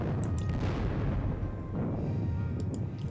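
Artillery fire in a Gettysburg wargame, a dense rumbling boom with rolling low-end noise that swells and lingers, loud and close with no voices.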